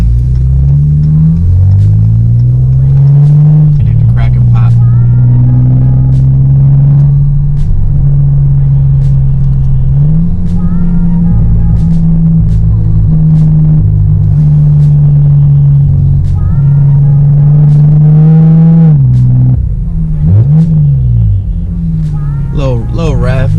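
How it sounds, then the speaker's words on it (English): A Chrysler 200 with a custom straight pipe exhaust revs loud and close, a deep rumbling drone rising and falling through several revs with sharp cracks and pops on the throttle lift, a voice talking over it. "The verbals and cracks and pops are a lot louder than they were on the Flowmaster."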